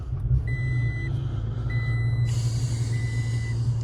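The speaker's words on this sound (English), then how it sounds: "First thing we're going to want to do is get in the truck, start it on up." A 2020 Toyota Tacoma truck's engine idles with a steady low rumble, while a high electronic chime beeps in repeated pulses over it, fairly close and continuous throughout.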